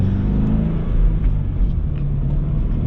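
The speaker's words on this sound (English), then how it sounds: "The engine feels a lot smoother." A 2022 Subaru BRZ with its FA24 engine drives along, giving a steady, smooth low rumble from inside the cabin with no sharp revving.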